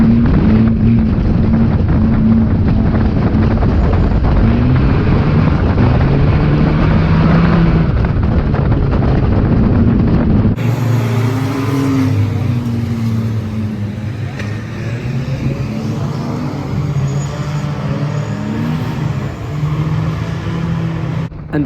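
Race cars running on a wet oval at Cowdenbeath Racewall, engines droning loud and steady throughout, with wind buffeting the microphone and a sudden shift in tone partway through.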